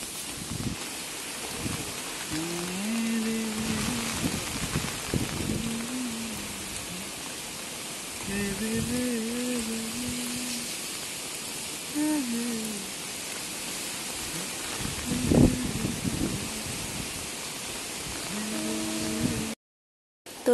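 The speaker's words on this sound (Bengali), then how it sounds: "বাবারে বাবারে ঝড় রে। এই ঝড়ে থাকা যাবে না বাইরে" Heavy rain and wind from a storm pour outdoors as a steady broadband roar, while someone speaks intermittently over it and the sound cuts off abruptly near the end.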